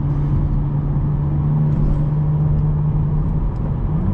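A tuned BMW 440i with 75k miles pulls hard after a downshift, its engine a steady, loud, low drone with a sustained tone and road rumble throughout, no voices.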